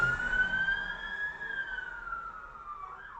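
A single wailing police siren sweeps up and down as police cars pass, loud at first and fading slightly as they move on.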